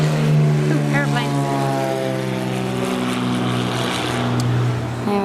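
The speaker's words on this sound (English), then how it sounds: "Ooh, aeroplane." Propeller aeroplane passing low over Broome's high street near an outdoor cinema in Western Australia, a loud steady drone with harmonic engine tones that holds throughout, with a voice briefly audible over it.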